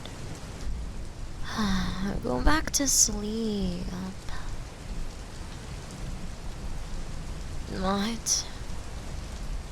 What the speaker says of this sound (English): Oh, there's a storm outside.